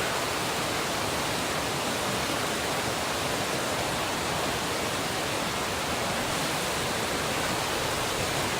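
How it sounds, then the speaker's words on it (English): A waterfall in New Zealand with a sulfur smell gives a steady, dense rushing hiss of falling water, even and unbroken throughout, with no voices. "The waterfall is actually really nice."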